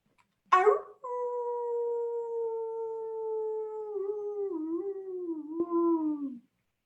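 A person imitates a wolf howl: a sharp intake of breath, then one long, sustained, wavering howl that bends in pitch before trailing off.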